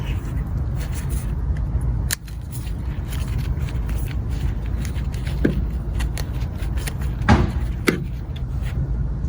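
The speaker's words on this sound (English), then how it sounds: "Just cut off all the little" Small aeonium flower stems snipped off a succulent while pruning: a few sharp, isolated clicks of the cutting tool rise over a steady low background rumble.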